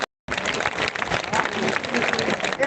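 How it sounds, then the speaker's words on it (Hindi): At a large convention of contract teachers, a crowd applauds to welcome a visiting legislator. Thick, continuous clapping with some crowd noise follows a brief moment of silence at the start. "आप जरा जोरदार तालियों बजा के स्वागत करें।"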